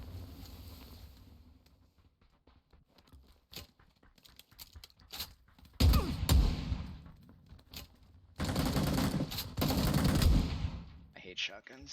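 Loud shotgun blasts from a video game firefight, with sharp booming bursts around six seconds and again between eight and eleven seconds, over quieter clicks and faint background noise.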